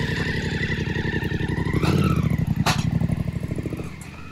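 A BMW GS motorcycle engine pulses and revs as the bike climbs a truck ramp with traction control off, a close, throbbing exhaust note swelling mid-way then easing off.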